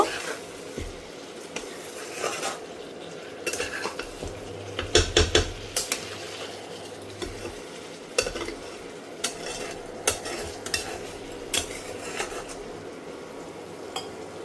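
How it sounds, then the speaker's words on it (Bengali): Butter and ground black pepper being stirred into chicken in a pan for lemon chili chicken, with repeated scraping and clinking of a spoon against the pan over a low background sizzle. "এটাকে ভালো করে মিশিয়ে নেব।"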